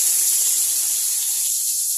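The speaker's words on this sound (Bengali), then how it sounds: "তেল গরম হয়ে গেছে, এই পেস্টগুলোকে আমি দিয়ে দিচ্ছি।" Spice paste hits hot oil tempered with black cumin while cooking cauliflower leaves, producing a steady, loud, close sizzling hiss that holds evenly throughout without any voices.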